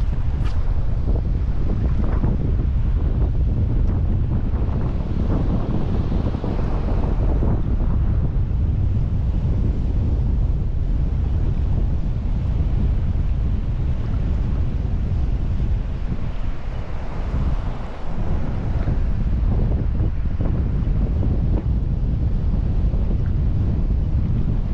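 Strong, steady wind buffets the microphone while fishing from a boat on open water, a continuous loud roar with waves and surf underneath and no voices.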